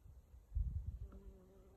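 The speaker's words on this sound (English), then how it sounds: "Bumblebees, not honeybees." A low, steady insect buzz with droning tones that rise and hold, close by and fairly faint, with no voices.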